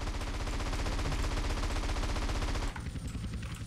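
Rapid automatic gunfire from a Hunter attack helicopter in GTA San Andreas, a loud continuous burst of shots that cuts off abruptly near the end, leaving quieter background noise.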